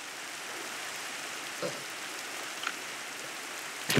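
Steady rain in the Minecraft video game, a continuous even hiss throughout with a brief louder burst at the very end.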